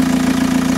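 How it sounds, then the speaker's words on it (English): A Volkswagen TDI diesel engine with its EGR deleted idles steadily, a loud, even low drone with a fast regular pulsing and no voices over it. "I have the engine ticking over there now anyway, as you can hear"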